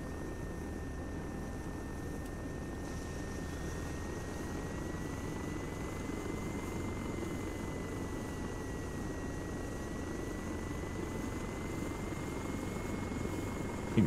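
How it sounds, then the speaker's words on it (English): A transport helicopter in the ARMA 3 combat game approaches with a steady, continuous rotor and engine drone, slowly rising in pitch and holding constant loudness across the whole stretch, with no voices. "think I can hear another helicopter coming"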